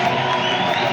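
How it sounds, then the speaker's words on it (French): Congregation at a church worship service cheering and shouting acclamations to the Lord, a dense, steady wash of crowd noise with some clapping throughout. "Tu peux encore exagérer avec tes acclamations."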